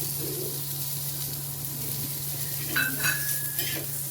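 Green chilli, ginger and a garlic clove roast in a pan for egg curry, a quiet steady sizzle with a low hum, then a few scraping stirs and a brief metallic squeak near the end.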